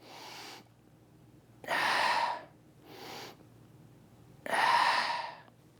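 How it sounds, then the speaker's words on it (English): Deep breaths drawn in and out through the nose, four slow breaths alternating softer and louder, close and isolated with quiet pauses between. "Try breathing through your nose as well."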